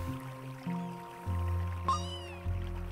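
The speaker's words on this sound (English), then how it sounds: "Terrifying swarm of black cats!" Black cats in the Spiral Knights video game let out a single bright, rising meow that rings out briefly over steady game music and low droning tones.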